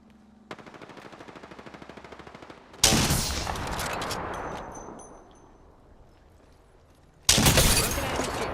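Video game gunfire: a rapid automatic burst rattles steadily, then a loud blast rings out and decays into a long tail before another loud burst hits, all prominent with no talking.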